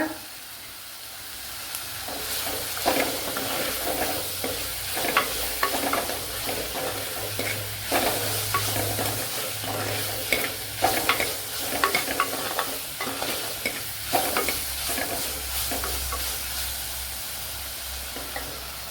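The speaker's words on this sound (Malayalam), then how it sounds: "ഇതിനി നല്ലപോലെ ഒന്ന് വഴണ്ട് വരണം" Curry leaves sautéing in hot oil for a pumpkin curry, with steady sizzling and frying hiss broken by repeated stirring scrapes and clinks of a spoon against the pan, close and continuous.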